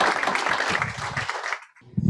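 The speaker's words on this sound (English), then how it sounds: "Let's give a round of applause to James, Michael, and Lindsay." Applause from an audience at a real estate panel discussion on returning to offices, a steady wash of clapping that fades out, followed by a brief sound at the end.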